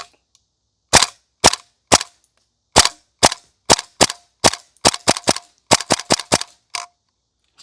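Saiga-12K shotgun firing with a T238 burst tracer unit fitted, about fifteen sharp, loud reports in an uneven series, first spaced apart and then coming faster in quick clusters, with near silence between shots.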